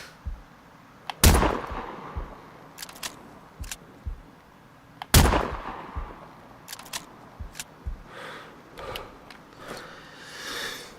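Video-game gunfire from DARPA bullets: two loud, sharp reports about four seconds apart, each trailing off, with smaller clicks and faint shots scattered between them.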